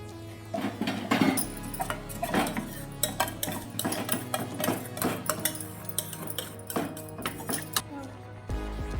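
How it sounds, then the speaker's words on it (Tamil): Cooked pearl millet vermicelli is scraped and spooned into a bigger pot, with repeated metal utensil clinks and scrapes against the cookware close up, under a steady low background hum. "இப்போ நான் வந்து நான் கொஞ்சம் பெரிய பாத்திரத்துக்கு மாற்றிக்கிறேன்"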